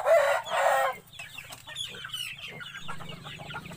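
A brooding native hen in the Philippines, sitting on her eggs, gives a burst of louder clucking calls. Softer, scattered low clucks follow, heard close and without talk.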